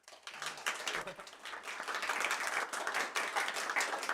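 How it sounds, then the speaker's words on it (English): A crowd at the Global Game Jam 2026 opening presentation claps, soft and somewhat distant applause swelling after a quiet start and holding steady. "And so, yes, please clap."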